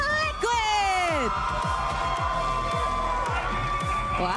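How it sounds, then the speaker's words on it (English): A live crowd at a Mobile Legends: Bang Bang esports tournament stage roars and cheers for a team's introduction, loud and sustained, while an announcer's voice and whoops rise over it. "Wow, the crowd goes wild."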